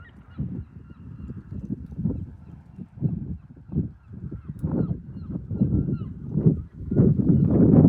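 Geese honk repeatedly by the River Mersey near a ferry, loud overlapping calls in irregular bursts over low background rumble, growing denser toward the end.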